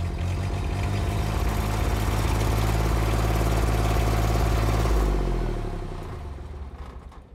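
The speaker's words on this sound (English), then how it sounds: "the engine can now be started by turning the key to position 2 momentarily." A Cimline M Series crack-sealing melter engine starts and settles into a steady idle, loud and close with a low rumbling hum, then the sound tapers off toward the end.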